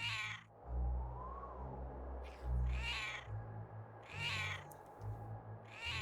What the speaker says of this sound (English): I think you have to go through the herd of cats.